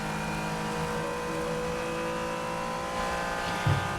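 Honda NSX GT3 Evo race car at full throttle around Spa-Francorchamps, a loud, sustained engine roar heard from onboard, steady and close with a brief thump near the end.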